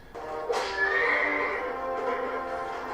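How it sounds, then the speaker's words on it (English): A loud, close horse-like whinny rises sharply and trails off over about two seconds, voiced by cartoon characters in the animated series DuckTales. "Why do they sound like horses?"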